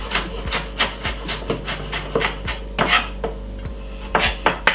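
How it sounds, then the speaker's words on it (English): A knife chops through a yellow pepper on a board, giving a steady series of sharp, close taps at an even rhythm with no talking. "Just going to cut off a little piece of the yellow pepper."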